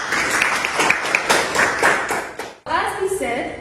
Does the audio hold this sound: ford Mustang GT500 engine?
no